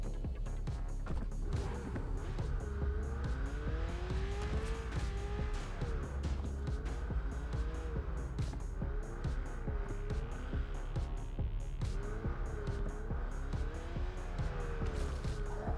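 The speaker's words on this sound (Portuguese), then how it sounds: "Vamos pegar o carro e vazar, mano." A car in the open-world mobile game Free City drives with a steady engine drone and repeated wavering tire squeals as it skids through turns, continuous and fairly loud with no talk.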